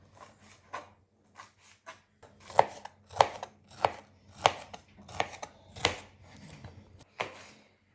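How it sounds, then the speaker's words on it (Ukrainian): A knife cuts sweet bell pepper into strips on a cutting board, giving a series of close, crisp chopping taps in an uneven rhythm that grows denser and louder midway. "І потім нарізати буду просто отакою соломкою."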